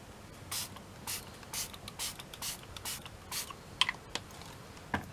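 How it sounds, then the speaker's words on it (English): Several short, hissing bursts of a spray bottle misting water onto craft work for an artist trading CD, spaced irregularly, close by and fairly quiet, with faint clicks between them. "I'm going to give those a spray with water as well"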